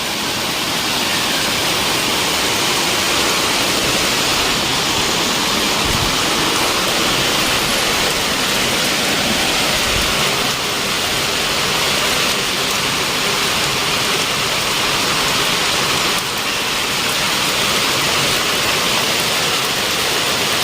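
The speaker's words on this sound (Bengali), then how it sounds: "অসাধারণ বৃষ্টি পড়ছে" Heavy rain pouring down steadily, a dense, loud hiss that continues without a break throughout.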